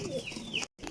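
Pure Salara Teddy pigeons coo up close, low throaty calls overlapping with brighter chirpy notes, broken by a brief silent gap before the cooing resumes.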